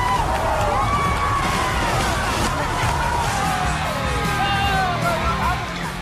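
A crowd of onlookers at a cattle-wrestling event yells and whoops in a loud, continuous din, with excited shouting voices overlapping throughout.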